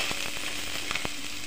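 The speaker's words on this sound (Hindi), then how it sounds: "एंड देन ये मैं प्याज का तड़का दे, प्याज है" Chopped onions sizzle and crackle steadily in hot oil in a pan for an Indian tadka tempering, with a few sharper pops over the frying hiss.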